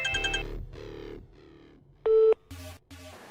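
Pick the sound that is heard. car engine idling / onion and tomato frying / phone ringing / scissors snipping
phone ringing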